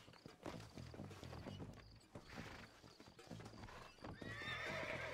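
Steady clip-clopping hooves with a horse whinnying near the end, loud and busy against a layered Red Dead Redemption game soundscape.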